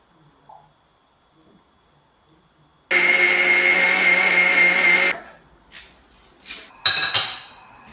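A mixie grinding coriander seeds, cumin, ginger, green chilies and grated coconut into masala, a loud steady motor whir for about two seconds, then stopping, followed by clinks of the jar and utensils.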